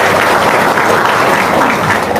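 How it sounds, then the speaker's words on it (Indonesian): A seminar audience breaks into loud, dense applause, many hands clapping together in a continuous close burst with no pause. "Wow, tepuk tangan dong."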